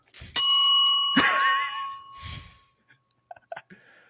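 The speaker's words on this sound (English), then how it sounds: "Ring that notification bell." A small hand bell rings twice with bright, sustained metallic tones. A breathy sound follows, then a few faint clicks and a soft ding near the end.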